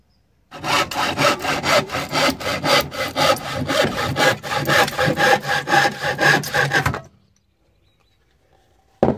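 A hand saw cuts through a piece of wood in quick, loud, close strokes that run steadily for several seconds and then stop, leaving near silence with no voices.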